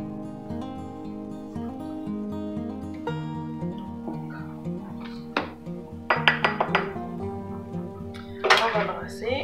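Eggs, oil and maple syrup are stirred together in a bowl for gluten-free bread batter. A person talks throughout while a utensil clinks against the bowl, growing into a quick, louder run of scraping clinks near the end.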